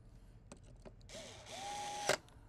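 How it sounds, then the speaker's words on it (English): Screws are driven back into a game console under repair, producing a few sharp close clicks followed by a short whirring, ratcheting stretch that ends in a louder metallic snap, with no speech. "we're going to put some of these screws back on"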